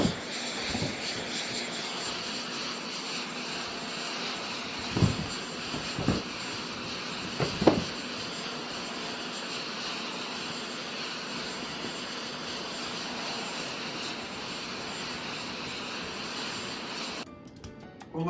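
A steady, loud airplane engine roar holds for most of the duration, with a few brief clunks and thumps breaking through. The drone cuts off abruptly near the end.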